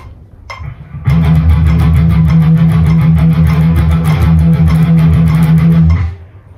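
Distorted electric guitar plays a thrash chug pattern of doubled sixteenth-note palm-muted notes, a loud, rapid, driving chugging that starts after a brief lead-in pick scrape and cuts off at the end, played alone.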